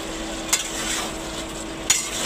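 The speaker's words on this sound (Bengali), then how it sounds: "এখন কাঁচামরিচ টমেটো দিয়ে দিচ্ছে" Green chilies and tomatoes dropped into a pan of curry, a steady faint sizzle of frying broken by two sharp clinks of a utensil against the pot.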